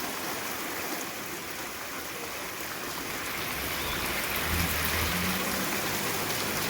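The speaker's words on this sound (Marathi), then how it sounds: "हा आहे नाशिकचा पाऊस" Heavy rain pours steadily in Nashik, a dense, even hiss of drops on surfaces with running water, swelling slightly louder toward the end, no voices.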